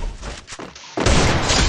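Gunfire in a shooting video game, with a sudden loud, dense burst of shots and impacts after a softer stretch of game noise, continuing to the end.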